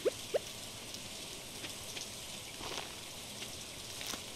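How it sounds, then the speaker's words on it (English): Steady rain falls in the farming video game Stardew Valley, a soft continuous hiss with faint scattered drip taps, heard alone at low volume. "Oh, it's raining."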